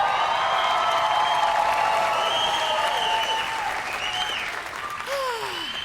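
An audience at a South Florida comedy show gives a standing ovation, with loud, dense applause and some cheering that fills the room and eases slightly near the end.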